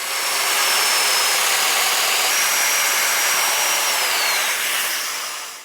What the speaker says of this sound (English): I'm now just going to do the domino slots.